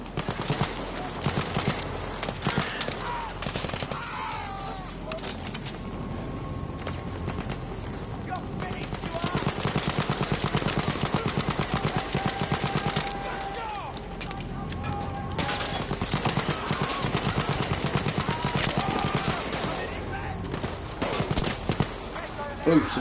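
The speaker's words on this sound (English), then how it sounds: "Ooh, someone's firing at me." Battlefield V gameplay on PS4: bursts of rapid gunfire crackle in dense clusters with pauses between them, while someone talks over much of the action.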